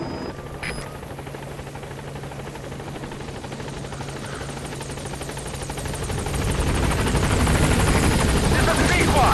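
A B-Quad support helicopter arrives in the video game Metal Gear Solid V: The Phantom Pain. Its rotor drone is dense and steady, and it swells noticeably louder over the last few seconds as the aircraft comes in.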